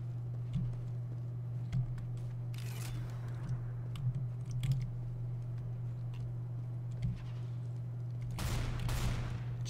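Shotgun fire in the CS:GO multiplayer video game comes as a couple of sharp, fairly faint blasts spaced several seconds apart over a low steady hum.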